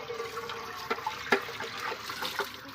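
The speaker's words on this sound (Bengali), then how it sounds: "দেখো আমি ধুয়ে নিচ্ছি প্রত্যেকটা থালাবাটি" Dishes and pots being washed under running water after cooking in a home kitchen: a steady splashing stream from the tap with a few clinks and knocks of utensils, close and fairly loud, with no talking.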